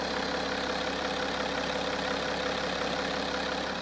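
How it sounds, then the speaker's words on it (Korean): A 2013 BMW Gran Turismo with an inline six-cylinder engine idles close by, a smooth, even, low hum that holds steady the whole time with no voices. "바로 엔진 소리 한번 들려드릴게요."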